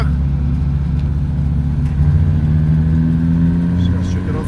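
A modified ZAZ 4x4 car's engine drones loudly and steadily as the car gathers speed, a continuous close mechanical hum with a faint rising tone and no talk.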